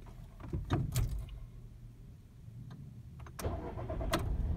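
A Volkswagen or Audi car engine is started after a fault code reset, with clicks and a brief cranking burst followed by the engine catching and settling into a steady idle, close by.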